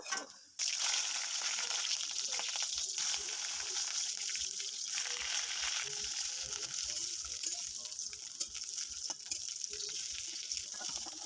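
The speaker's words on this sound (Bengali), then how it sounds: "ওই তেলে বেগুন ভেজে নেব।" Eggplant sizzles in hot mustard oil in a wok with a steady, busy crackle, joined by occasional scraping and stirring nearby.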